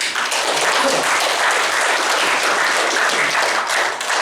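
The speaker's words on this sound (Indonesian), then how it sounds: "Beri tepuk tangan bagi Yesus sekali lagi." Church congregation at a Sunday service clapping together, a loud, dense and even wave of applause that continues steadily for several seconds with no break.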